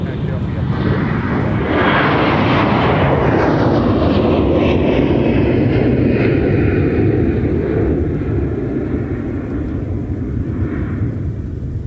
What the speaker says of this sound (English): Here's Delta 1028 off to Atlanta Hartsfield Jackson.